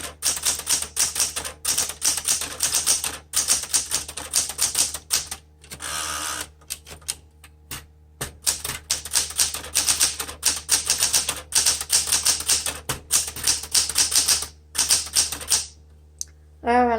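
Someone types on a 1974 Smith Corona Classic 12 manual typewriter, a quick, close clatter of key strikes in uneven bursts with short pauses between lines.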